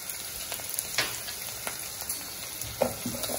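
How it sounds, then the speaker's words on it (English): Finely chopped red onion sautés in a pan with a continuous close sizzle, punctuated by light spatula scrapes and taps at irregular intervals. "I'll be sauteing it till the onion becomes pinkish in color"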